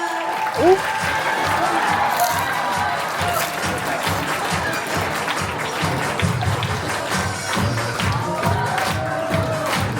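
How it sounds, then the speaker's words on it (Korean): Wedding guests applaud as the groom enters a ceremony hall in Korea. Sustained clapping from a crowd fills the room under an amplified voice speaking over a microphone. "같이 박수 부탁드립니다."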